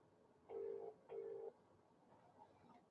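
A phone call rings out on the line with two long, even ringback tones in quick succession, followed by a short faint tone, quiet against low background noise.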